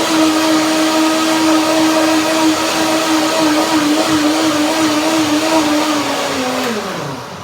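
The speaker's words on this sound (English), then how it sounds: "It wouldn't be wrong at all to blend it a little bit longer. You have a power blender, gets warm." A power blender whirs steadily as it purées a curry cream dressing, its loud motor drone holding an even pitch before spinning down near the end.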